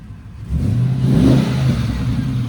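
A Chevrolet Silverado pickup with a 6.0 engine revs up after a quiet start, a loud deep engine roar that swells and holds steady close by.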